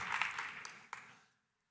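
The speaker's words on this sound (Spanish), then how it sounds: "Doble aplauso entonces" Audience applause at a business conference's opening talk: a dense burst of clapping that holds steady for over a second, then quickly thins and fades to silence.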